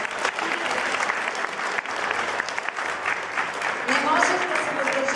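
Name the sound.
audience applause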